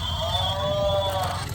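Toy cow sounds a single drawn-out electronic moo at moderate volume, steady and alone with faint background hiss, played on a beach at Bang Saen.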